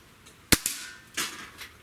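Shots from a Hatsan Model 25 air rifle at a PVC pipe target outdoors: a sharp crack, a quick follow-up snap, then a duller hit a moment later, moderately close with no talk.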